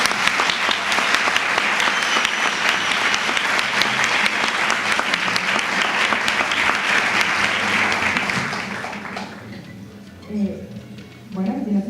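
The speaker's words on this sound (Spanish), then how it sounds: "Un aplauso," Audience applause for a speaker at a talk on Black feminism in Latin America, a dense, loud round of clapping lasting about nine seconds before dying away into a brief spoken remark.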